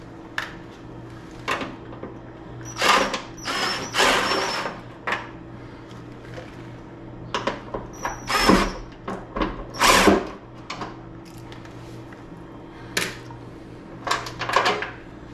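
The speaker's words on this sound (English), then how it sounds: "At this point, we're going to take these bolts back out." A power drill backing bolts out of truck fender flares during an Aries fender flare and liner install, sounding in short whirring bursts of one to two seconds with quiet gaps between them.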